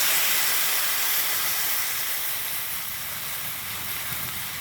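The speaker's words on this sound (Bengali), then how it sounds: "এবার এর ভিতরে জল দিয়ে দিচ্ছি" Water poured onto potatoes frying in oil sets off a loud, broad rush of hissing steam that starts strong and eases slightly while staying continuous, heard close with no speech.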